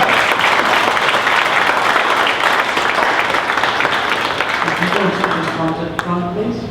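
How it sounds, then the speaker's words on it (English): A crowd applauds the graduating class of 2024 at a high school board meeting, loud sustained clapping that fades slightly toward the end as voices emerge underneath. "Big round of applause for the class of 2024."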